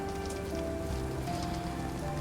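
Steady rain falls across the scene in the video game Sherlock Holmes The Awakened, a continuous dense patter on surfaces with a faint low hum beneath and no voices.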